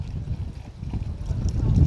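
Wind gusts buffet across an open construction site where steel matting is being laid, a low, rumbling roar that swells and grows louder toward the end, with faint voices nearby.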